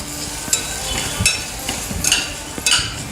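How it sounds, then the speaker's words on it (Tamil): A spoon scrapes and knocks against a pan while ground peas are stirred into masala, a soft sizzle running underneath and four or five distinct clinks spaced about half a second apart. "இதையும் சேர்த்து நல்லா கிளறி விட்டுடலாம்"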